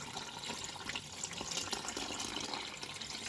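Washed beans are sieved in water, giving continuous splashing and trickling with sloshing surges throughout, with no voices.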